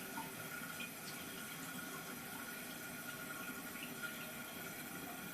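A rebuilt toilet tank fills with water, a steady, even hiss and rush of flow that runs unbroken and fairly faint throughout, with no voices.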